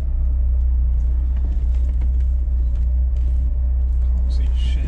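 A very low-slung car reversing, its engine giving a steady low rumble heard from inside the cabin, with a few faint clicks and knocks on top.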